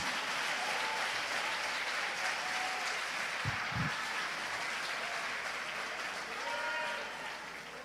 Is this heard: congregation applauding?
yes